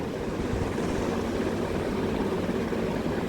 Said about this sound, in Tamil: ஓகே, ஹெலிகாப்டர்லேருந்து இறங்கலாம்.